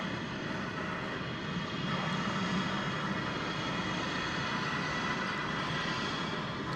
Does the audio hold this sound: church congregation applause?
no